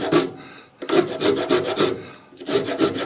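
Small rotary carving tool shaping a spinning wood workpiece on a lathe, making loud, repeated rasping scrapes in rhythmic strokes with brief quiet gaps between passes.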